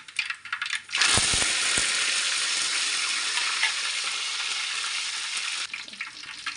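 Curry leaves dropped into hot oil burst into a loud, close sizzle after a few clinks, crackling steadily for several seconds before easing off.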